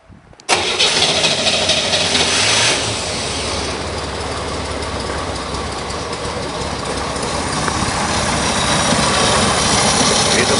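A cold Chevrolet Monza that is out of gas starts up with a sudden loud burst, then settles into a steady, rough idle that runs on for about ten seconds with no talking.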